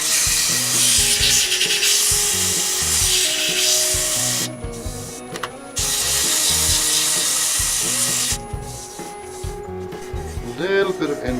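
A small wooden plate on a woodturning lathe being sanded, with loud, steady abrasive rubbing in long bursts broken by short pauses while the motor keeps humming.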